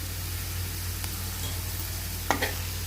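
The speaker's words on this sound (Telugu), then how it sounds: "అల్లం వెల్లుల్లిపాయ పచ్చివాసన పోయేంత వరకు కూడా కలుపుకోవాలి." Crushed ginger and garlic cook in a hot pan with a steady sizzling hiss over a low background hum. A couple of brief utensil scrapes break through near the end.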